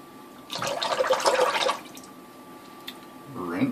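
Running water splashes loudly for about a second and a half while rinsing during a wet shave with an iKon Slant razor, then drops away to quiet room tone, with a brief faint rustle near the end.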